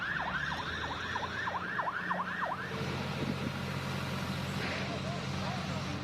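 Fire trucks sound wailing sirens at a factory fire, a rapid repeating yelp cycle that fades after a few seconds into heavy engine rumble and traffic noise, with a later faint siren in the distance.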